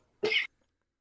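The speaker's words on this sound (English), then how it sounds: "Coughing fit." A cat coughs once, a brief sharp hacking burst about a quarter second long, close to the microphone against near silence.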